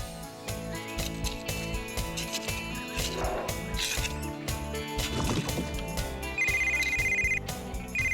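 A cartoon telephone rings in a Bob the Builder episode, a bright electronic ringtone chiming near the end over busy background music and mechanical clatter.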